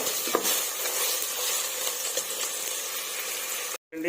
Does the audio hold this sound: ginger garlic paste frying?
yes